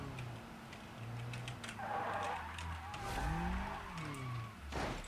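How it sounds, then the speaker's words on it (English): Tires squeal and skid as a car drifts through a tight space in BeamNG.drive, long pitch-sliding screeches over a low engine drone, fairly quiet with a sharp burst near the end. "It is so weird drifting in like such a tight space."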